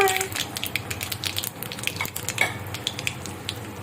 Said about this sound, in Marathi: जिरा जिरानंतर मी याच्यामध्ये टाकणार आहे ही उडदाची डाळ